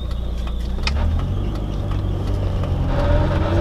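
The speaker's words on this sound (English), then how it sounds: "That's belt squeal." A car engine runs with a rough low rumble while a thin squealing tone from a slipping belt rises in pitch toward the end, close and steady with no talk.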